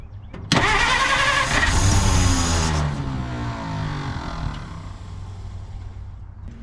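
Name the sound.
1950 Dodge Meadowbrook engine cranking, trying to start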